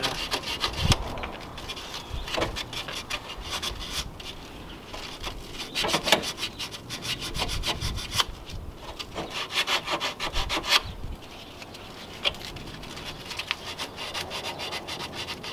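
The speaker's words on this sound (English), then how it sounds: "So I'm just gonna run some sandpaper right here and clean the area where I'm gonna put the putty." Hand sanding with sandpaper on a BMW part to clean the surface before epoxy putty, a steady close rasping scrape in repeated back-and-forth strokes for the whole stretch, with no talking.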